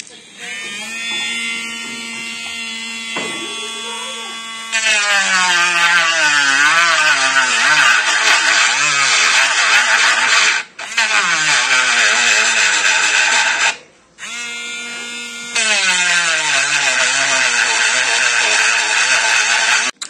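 A JACK mini rotary drill grinder whirs at high pitch, and its motor speed audibly rises and falls as the speed wheel is adjusted. The whine cuts out briefly twice between runs, with a softer hum at the start.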